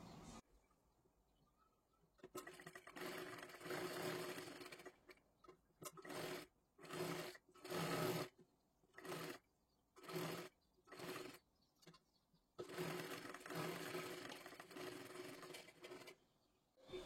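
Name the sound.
sewing machine stitching a kathpadar saree blouse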